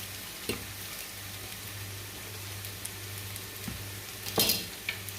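Garlic sizzles softly in a pot on the stove, a low steady frying hiss broken by a few light clinks and scrapes of a utensil, no talking.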